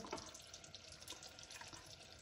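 Freshly harvested grapes being lowered into a bowl of ice water give a continuous soft splashing and trickling, faint and steady with small drips throughout.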